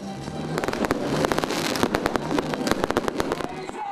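New Year fireworks burst over Tirana, Albania's capital, in a dense rapid barrage of loud sharp cracks and pops on top of a constant crackling roar, with crowd noise underneath.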